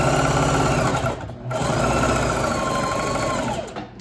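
A sewing machine stitching boat sails runs loud and close in fast steady bursts, pausing briefly near the middle and again at the end.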